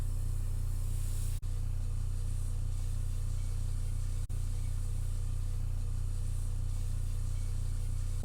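Loricraft PRC6i record cleaning machine with its pump and motor running, a steady low hum and constant hiss close by, broken twice by brief clicks.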